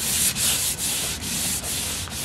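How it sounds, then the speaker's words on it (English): Rhythmic back-and-forth hand sanding strokes on a painted wooden dresser, about five light rasping passes in quick succession, close and alone. "I'm just very lightly sanding it to get the surface smooth"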